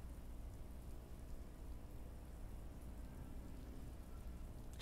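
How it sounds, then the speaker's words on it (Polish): Steady rain pouring in Resident Evil 2, a dense even hiss of falling water with no breaks, faint and continuous throughout. "Krzywi się, bo pada."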